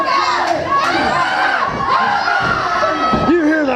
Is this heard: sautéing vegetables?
no